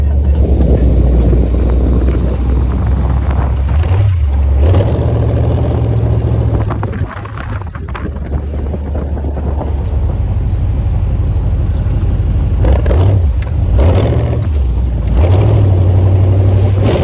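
Hot rod car engine in Bangkok, revving loudly during a ride with a deep rumbling drone, several rising and falling revs, and a brief lull midway, with wind noise throughout.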